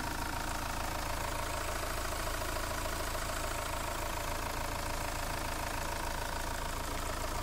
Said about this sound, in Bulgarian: Ето го двигател как работи.